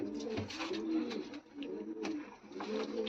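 Pigeons coo close by in soft, repeated rolling calls, several overlapping phrases over a quiet outdoor background, with no talk.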